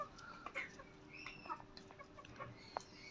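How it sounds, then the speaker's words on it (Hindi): Soft, scattered clucks from desi hens on a house rooftop, brief irregular calls over a quiet outdoor background. "और वो अपना खेल रही है मुर्गी"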